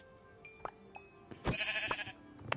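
Sheep bleating in a crafting video game, a few short bleats around a louder burst in the middle, fairly faint with game background sounds and no talking.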